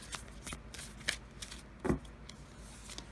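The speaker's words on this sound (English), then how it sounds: "let's draw you some oracle cards" Oracle cards being shuffled by hand: a series of soft, papery riffles and flicks, close and quiet, with one louder burst of cards near the middle.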